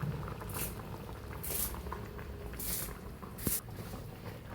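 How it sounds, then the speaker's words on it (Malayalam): Fish curry with milk and mango simmering in a pot, a soft continuous bubbling hiss with faint patters and occasional brief sizzling bursts, steady and close. "മീൻ തിളച്ചിട്ടുണ്ട്."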